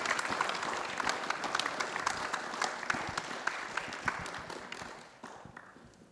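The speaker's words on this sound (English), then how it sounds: "A round of applause." An audience applauds as artists are welcomed to the stage, a sustained burst of many clapping hands that fades toward the end.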